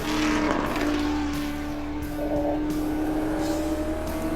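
A 427 Ford V8 racing engine in a 1967 Ford GT40 roars at around 7,000 RPM, loud and close, holding a steady, sustained drone throughout.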